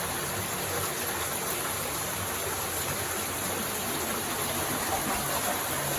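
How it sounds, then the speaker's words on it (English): Cold water rushes steadily into a tight cave passage behind a waterfall, a continuous broadband roar that stays loud and even throughout with no talking. "there's water rushing in from a couple different places."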